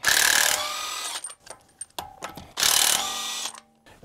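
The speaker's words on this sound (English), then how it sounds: "my impact, I have a 7/8 inch impact socket, which I'll use" Impact wrench with a 7/8 inch socket loosening lug nuts on a 2013 Range Rover Sport, two loud close rattling bursts with clicks and quieter mechanical handling between them.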